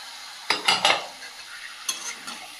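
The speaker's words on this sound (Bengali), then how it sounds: "আর এখানে একটা ক্যাপসিকাম কুচিয়ে রেখেছি, ওটাও দিয়ে দেব মাংসের মধ্যে।" Chopped capsicum stirred into meat frying in a pan: a cluster of three loud, close scraping stirs with sizzle, then two lighter strokes over a faint steady hiss, with no talking.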